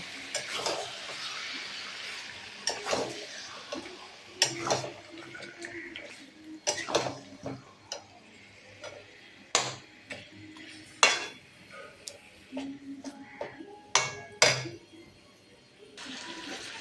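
Marinated meat being stirred in a pan over low heat, with scattered scraping and clinking taps of a spoon against the pan at an irregular pace, close and moderately loud over a quiet background.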